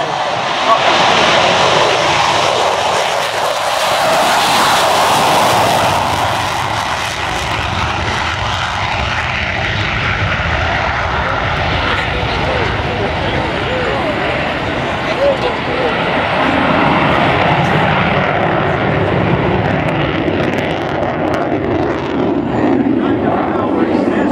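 A loud US Navy F/A-18F Super Hornet jet roars past overhead at low altitude during an air show flight demonstration, rising then slowly fading as it passes, with voices talking underneath.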